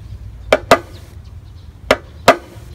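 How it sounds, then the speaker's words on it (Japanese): Drum flams played as a rudiment: two pairs of sharp strikes, each a soft grace note closely followed by a stronger main stroke, crisp and near in a quiet room. "装飾音っていうことでフラムと呼ばれ、名前がついて呼ばれているものなんですけど、こっちが飾りでこっちが本体で"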